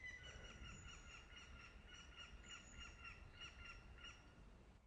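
Birds call outdoors in a faint, distant series of repeated harsh, caw-like calls that come in short bursts over a low, steady background hum.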